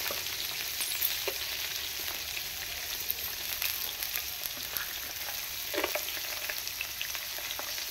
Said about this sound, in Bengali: এগুলো ভেজে নেব সবুজ মটর।